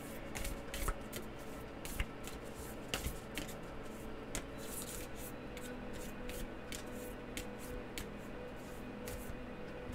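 Tarot cards being shuffled and drawn, a soft continuous riffling and sliding of cards close by, with scattered light taps and flicks, quiet and steady throughout.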